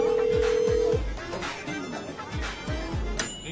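A phone ringing on a call that goes unanswered, with a steady electronic ring tone at the start followed by a few short thumps and muffled background voices.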